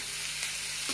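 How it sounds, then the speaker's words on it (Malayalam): Chopped banana stem is stirred into a spice paste in a hot pan, giving a steady close sizzle with a couple of soft scraping stirs and no talk. "ഇളക്കി കൊടുക്കാം."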